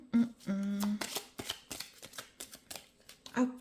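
Playing cards are shuffled by hand in quick riffling bursts, close and fairly soft, with a voice speaking quietly over them.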